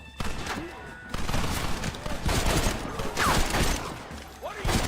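Rapid bursts of gunfire crackle during a gate assault in the video game Red Dead Redemption, dense and fairly loud, repeating in waves over about five seconds. No one talks.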